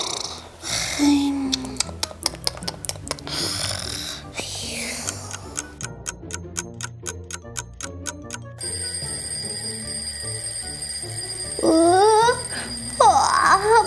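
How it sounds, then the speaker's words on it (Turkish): An alarm clock rings at five in the morning in rapid repeated beeping bursts, loud and close, alternating with electronic tones and a person talking over it. "bu alarm saat sabah beşinde neden çalıyor?"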